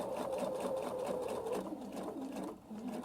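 A sewing machine stitches an applique in one close, steady whirring run with a fluctuating motor pitch. It slows slightly near the end.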